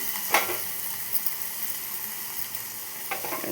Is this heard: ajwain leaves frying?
yes